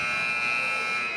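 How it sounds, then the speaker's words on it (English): Arena buzzer ending the first half of an ice hockey game, a single loud steady electronic drone held for over a second, with a commentator's voice faintly under it. "And the buzzer."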